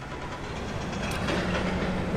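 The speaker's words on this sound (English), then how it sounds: "You'll have to pardon the construction noise," A steady, dense rumble of construction machinery noise with rhythmic clanking runs throughout, moderately loud and continuous, with no voices.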